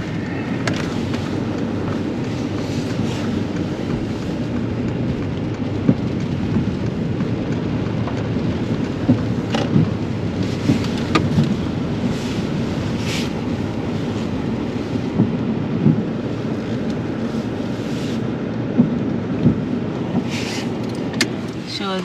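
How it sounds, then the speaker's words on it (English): Heavy rain pours steadily on a parked car near a riverside parking lot in Kajaani, Finland, a dense continuous roar with faint distant thunder rumbles, heard from inside the vehicle without talk. "now it's starting to rain heavily, so we have to wait in the car"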